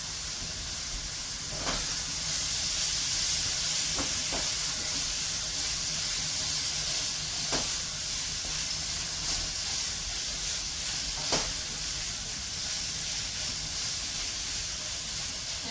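Sweet and sour sauce cooks in a hot pan with a steady, even sizzle and hiss that runs the whole time, broken by a few faint clicks and taps.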